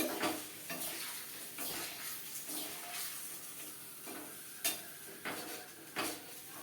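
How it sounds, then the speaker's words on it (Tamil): Buttermilk-soaked chillies frying in oil in a pan, with soft sizzling and repeated stirring and clinking of a spoon against the pan, steady and close, no voices. "நல்லா மோர் மிளகாய் வறுபட்ட உடனே வறுத்துட்டு உடனே அந்த எண்ணெயிலேருந்து எடுக்க வேண்டாம்"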